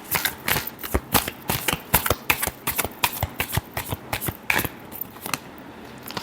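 Tarot cards are shuffled by hand in a quick, even rhythm of crisp riffling flicks, close and clear, slowing slightly toward the end with no talk.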